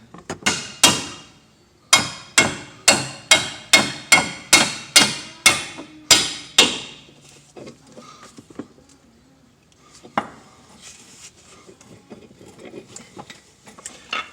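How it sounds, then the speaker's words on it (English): A dozen sharp metal hammer blows ring out in a steady rhythm at close range, driving a CV axle into place on a Volkswagen Eurovan, followed by quieter clinks and shuffling. "for the rest of this, we're just going to hammer it right in."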